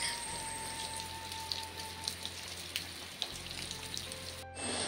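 Rain falls outside a home in Kerala as a faint, steady patter with a few scattered sharper drips and a low hum underneath.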